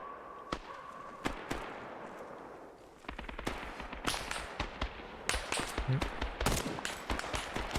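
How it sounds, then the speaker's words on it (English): Gunfire in the military video game Arma 3: repeated sharp rifle shots, single cracks early on, then rapid closely spaced bursts that grow denser and louder toward the end, with no talk over them. "Now I'm shooting the cover in front of me."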